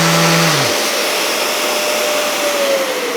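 A loud, steady electric motor whine with broadband hiss from a Festool ETS EC 150 sander, close by, running continuously after a brief lower hum fades out at the start.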